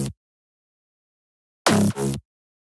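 A synth lead preset from the Bang House pack for a bass house track, playing a short answering phrase of two bright, punchy stabs close together after a brief opening blip, with silence between.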